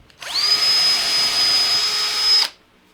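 A power drill bores holes into a Les Paul Junior guitar body, one steady high-pitched whine that spins up, holds for about two seconds, then cuts off sharply.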